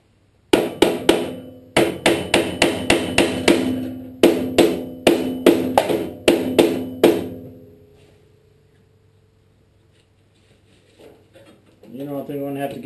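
Metal hammer blows strike a stuck part on a Bolens 1026 snow thrower, coming in quick bursts of sharp, loud, ringing hits with brief pauses between them. Then quiet follows, with faint voice-like sound near the end.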